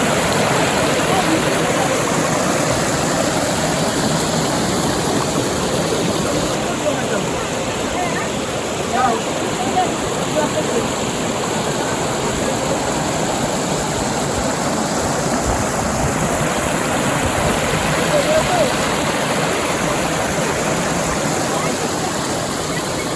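A waterfall at Yogi Ghat near Takdah in Darjeeling, heard from very close: a steady, dense, full-bodied roar of falling water that stays loud and even throughout.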